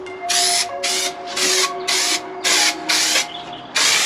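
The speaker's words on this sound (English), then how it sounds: "High temperature spray adhesive is used to glue the carpet to the inner walls of the van." Repeated bursts of high-temperature spray adhesive, about seven short hissing sprays in a steady rhythm, close and loud with brief pauses between, applied to glue carpet to a van's inner walls.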